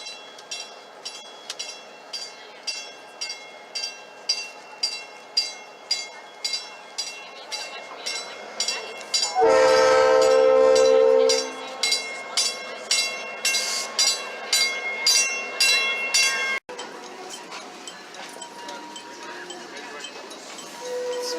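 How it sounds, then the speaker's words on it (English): A South Shore Line electric train passes along the street, its wheels beating a steady rhythmic clatter that builds as it nears, with a loud sustained horn blast in the middle before the clatter continues and then thins out. "There's our train."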